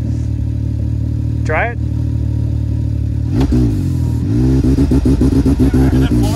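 Engine idling, then revved hard with rising and falling pitch as it is floored against the brake, loud and close, followed by rapid throbbing pulses; a person speaks briefly over the idle.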